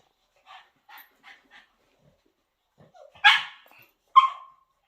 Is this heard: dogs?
yes